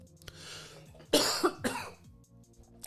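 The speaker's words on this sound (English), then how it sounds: "That was not a COVID cough." A short burst of harsh coughing, two or three rough hacks close together, loud and near.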